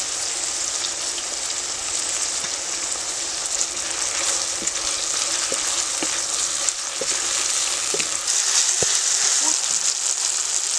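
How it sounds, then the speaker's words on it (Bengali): Onion sizzles with chopped tomato and salt in a pan, a loud, continuous close crackle of hot oil with scattered light pops and occasional utensil taps throughout. "পেঁয়াজটা একটু ভাজা হয়ে গেছে, এতে দিয়ে দিচ্ছি কুচানো টমেটো।"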